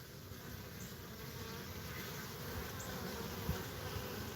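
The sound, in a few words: Carniolan honeybee colony buzzing, bringing in pollen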